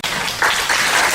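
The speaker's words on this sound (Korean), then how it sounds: "박수로 청해 듣겠습니다." Audience members at a forum on border-region issues break into applause to welcome the next speaker, a short, close and loud burst of many hands clapping.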